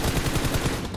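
Rapid automatic gunfire from PUBG Mobile rattles in a dense, continuous burst of close shots across the whole second.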